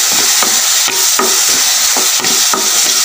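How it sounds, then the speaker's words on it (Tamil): Ground shallot paste frying in hot oil for tomato thokku, a loud steady sizzle broken by regular scraping stir strokes roughly every third of a second, close up with no talk. "இது எண்ணெயிலே நல்லா நம்ம ஃப்ரை ஆகட்டும்"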